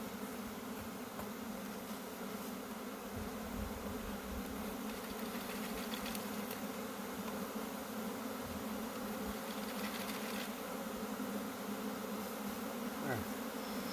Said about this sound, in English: The good thing about swarms is as much as they look like they're hectic and all over the place.